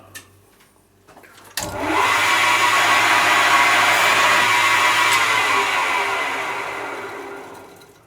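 A metal lathe starts up and turns down steel stock to 14 mm diameter for a spark plug thread chaser tool, a sharp start followed by a loud, steady whirring cut that slowly fades toward the end.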